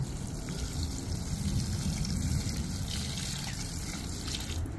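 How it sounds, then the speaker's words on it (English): Water poured steadily onto a dried-out tomato plant in an AeroGarden Harvest Elite Slim indoor garden: a continuous close trickle and splash lasting about five seconds, with no talk. "So we're going to water this one."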